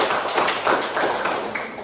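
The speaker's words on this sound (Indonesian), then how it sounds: "mari kita tepuk tangan untuk kelompok" Classroom group applauding a student presentation group, a close, dense patter of hand claps at steady loudness for just under two seconds, with no speech.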